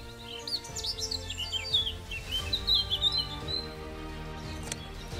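Blackcaps sing in spring in Flanders, quick warbling phrases and chirps rising and falling over a soft rustling background, fairly close and clear.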